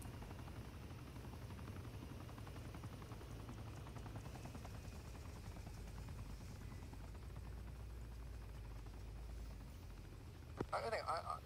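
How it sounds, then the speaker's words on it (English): An armed helicopter in the Arma 3 video game keeps up a low, steady rotor drone throughout, faint and continuous, with people talking over it and a brief clatter near the end. "That's helicopter. It's got guns on it."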